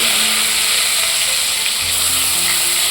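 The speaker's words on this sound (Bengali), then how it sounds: "তারপরে বাদ বাকি মাছগুলো একইভাবে ভেজে নেব" Pieces of rohu fish fry in hot oil, giving a loud, steady sizzle with a crackle that holds through the whole stretch and has no talk over it.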